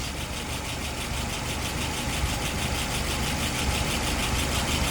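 A truck engine idles steadily nearby with a constant droning rumble and a faint knocking vibration as its revs settle back down, and no voices are heard.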